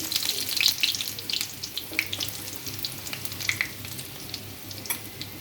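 Onion fries in oil on a stove, a moderate close sizzle with bright crackling pops and spits scattered throughout, heard alone without talk.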